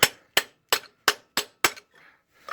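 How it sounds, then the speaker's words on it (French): Six sharp metallic hammer blows on a pin punch or flat chisel, striking a driveshaft to free its bearing on a 2.0 HDi 110 hp engine, evenly spaced and loud, then a faint scrape and a final tap. "il vous suffit de taper avec un chasse-goupille ou un burin plat"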